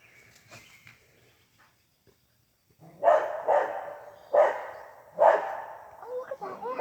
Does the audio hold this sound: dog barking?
yes